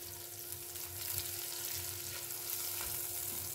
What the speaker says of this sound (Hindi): हम इसमें डालेंगे गाजर, इसको हम थोड़ा सा सौते करेंगे